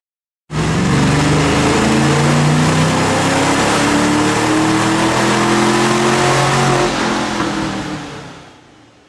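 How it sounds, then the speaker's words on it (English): A stock automatic 5-liter Mustang with a BBK cold air induction system roars on a chassis dyno, its engine climbing steadily through a loud, sustained full-throttle pull before easing off at the end. "Now we can run the car on the dyno and see how much power we've picked up with these super easy and affordable bolt-ons."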